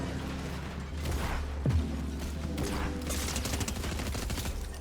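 SMG fire in Fortnite, rapid bursts of shots in quick clusters mixed with game sounds, moderately loud throughout.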